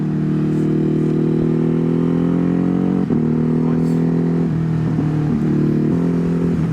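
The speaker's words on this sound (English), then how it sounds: "This exhaust is deafening, man." Loud motorcycle exhaust drones continuously at close range while riding on a Ducati HyperMotard or KTM along a hilly Welsh road, the engine tone shifting with gear and throttle changes, with voices partly under it.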